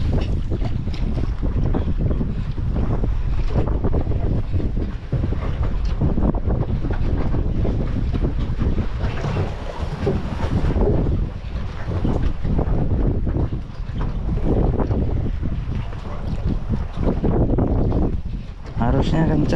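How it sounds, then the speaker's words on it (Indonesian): Strong wind buffets the microphone aboard a small fishing boat at sea off Semarang during the west-monsoon windy season, with a constant heavy roar, hull and wave noise underneath, and loud gusts throughout. "Harusnya kencang nih hari ini, anginnya juga kencang"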